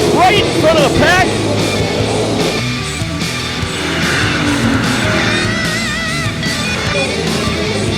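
Race cars on a dirt oval roar past as one spins out in front of the pack, engines revving loudly with squealing, wavering tire and engine pitches under an excited announcer's voice.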